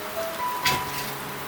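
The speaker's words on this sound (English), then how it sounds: "the rain has started" Rain falls as a steady soft hiss along the Har ki Dun mountain trek, fairly faint and close, with a brief louder patter in the middle and no talking.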